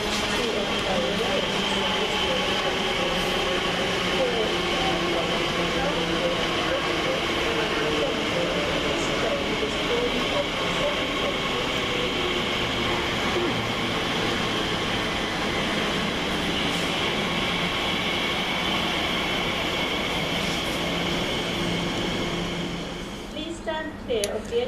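A Class 321 electric train runs through Romford station without stopping, giving a long, steady, loud rumble with a sustained motor hum that holds for over twenty seconds before easing off at the end.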